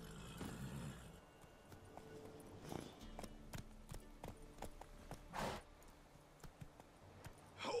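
Horse hooves clatter in a rhythmic clip-clop in the video game Witcher 3: Wild Hunt, with a few louder bursts over a quiet background.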